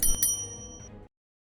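A notification bell chime rings out twice in quick succession, bright and close, then a softer ding follows before it cuts to silence.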